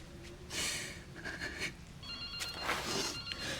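Telephone ringing in Resident Evil Requiem, a faint electronic trill sounding in a few short bursts over quiet game ambience, with no speech.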